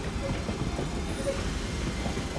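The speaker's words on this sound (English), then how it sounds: "got Great Western Railway service to London Paddington coming in. So it's formed of 2 class 387s" A Great Western Railway service for London Paddington, two Class 387 electric units led by 387 163, arrives at Ealing Broadway, giving a moderate continuous rumble with faint tonal whine.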